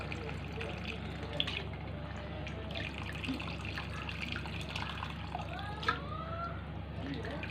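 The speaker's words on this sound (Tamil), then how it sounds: "இப்போ கரைச்சி வச்ச புளியை சேர்த்துக்கலாம்" Dissolved tamarind water poured into a pot of black chickpea kadalai curry kuzhambu, a soft, steady liquid trickle against a low background hum, with no distinct splashes.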